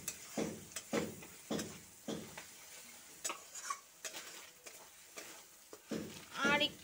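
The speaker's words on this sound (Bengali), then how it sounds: "দিয়ে ভালো মতো নাড়াচাড়া করতে হবে।" Ground coriander, cumin and Kashmiri chili powder are stirred in a frying pan for a pabda fish curry. Faint, rhythmic scraping strokes repeat about once a second, with some light sizzling underneath.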